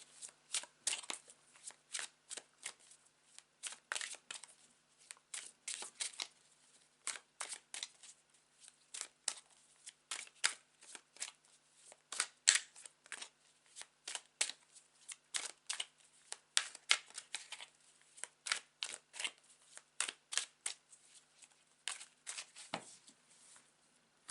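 A tarot card deck shuffled by hand at close range, with quiet crisp riffling bursts repeating in an irregular rhythm over near silence.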